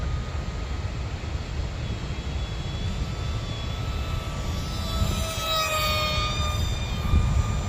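A Sky Viper Vector RC stunt plane flies in level flight, its small electric motor a steady thin whine over outdoor wind noise, with a rising-and-falling pitch sweep as it passes, no talk.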